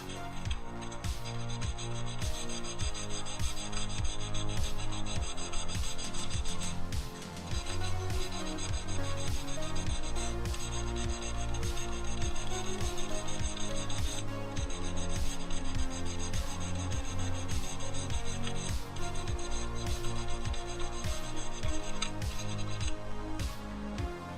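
Fine 1000-grit sandpaper rubs on a plastic Airfix Sea King model kit in quick, even back-and-forth strokes, a close, steady rasping scratch that continues with almost no break.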